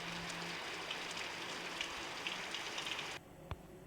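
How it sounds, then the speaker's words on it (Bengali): Steady rain pours down outdoors, making a dense continuous hiss that stops abruptly near the end, followed by a single sharp knock. "এখানে দেখো আবার বৃষ্টিটা শুরু হয়ে গেছে"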